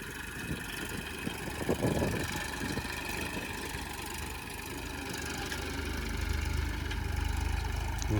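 A tractor engine runs steadily during pigeon pea threshing on a farm, a medium-low idling drone with vibration that swells slightly louder toward the end, with some faint clattering.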